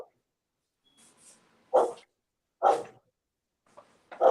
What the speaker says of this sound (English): My dog is acting up.